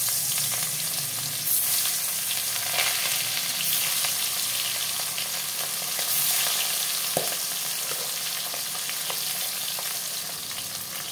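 Steady, dense sizzling of fish frying in hot oil, loud and close, with a few faint clinks and taps from the pan.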